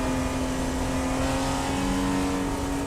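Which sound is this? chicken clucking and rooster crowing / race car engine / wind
race car engine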